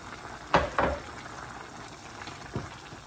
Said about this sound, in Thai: ปล่อยให้เดือดอีกแป๊บนึง